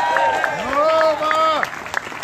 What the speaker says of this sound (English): One more big round of applause for Bob.